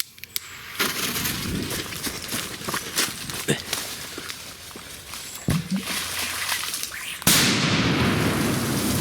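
Scattered clicks and rustling lead up to a single sharp, loud firecracker blast in water near the end, followed by a lingering wash of noise.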